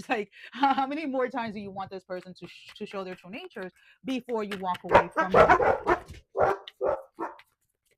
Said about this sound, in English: I apologize for the barking. Those are my dogs.